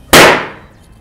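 A balloon bursts in a single sharp, loud pop at close range, its bang fading quickly into a short tail of room echo.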